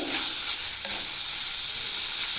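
Curry leaves and garlic dry-roasting in a pan give a steady, close crackling sizzle, with a couple of soft stirring scrapes near the start and no voices.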